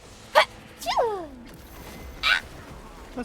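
A short sharp sneeze bursts out in a Space Marine 2 game session, sitting among brief vocal yelps and a sliding whine, with quiet game ambience between.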